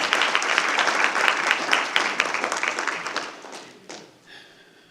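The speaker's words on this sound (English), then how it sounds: "another huge round of applause for her service" Audience applause at a school district board of trustees meeting, a dense steady clapping that thins and fades out over the last second, with no talk over it.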